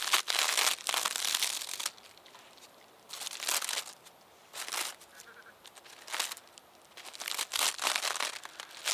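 Papery layers of a wasp nest are peeled and crinkled by hand, giving close, dry rustling bursts that come and go with quiet gaps between them.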